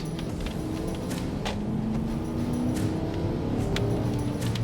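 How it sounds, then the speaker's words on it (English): Porsche Cayenne Turbo V8, modified for overland use, rumbles steadily from inside the cabin with low harmonic engine tones that slowly rise in pitch, continuous and moderately loud with faint clicks above. "You just can't beat that V8 rumble."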